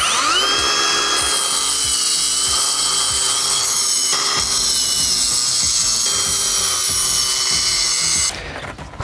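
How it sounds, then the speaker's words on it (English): A rotary grinder with a masonry blade whines steadily at high pitch as it cuts, loud and close, with rattling and grinding underneath, then it winds down near the end. "I'm going to use my rotary grinder with a masonry blade on it"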